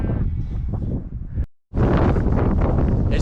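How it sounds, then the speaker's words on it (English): Strong, gusty wind in a mountain valley in Wales buffets the microphone in a roaring broadband rush, cutting out briefly midway before surging back just as loud. "It's very windy."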